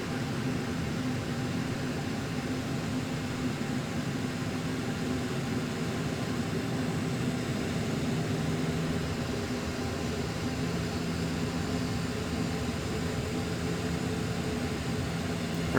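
PMDG 737-800 jet taxiing in FSX, a steady low engine drone with constant hum and broadband hiss, moderately loud and unchanging throughout, no talk.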